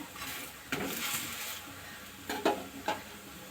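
Masala roti batter with vegetables and onion roasts in a pan, a soft sizzle broken by several quick scraping stirs of a spatula against the pan, close and alone.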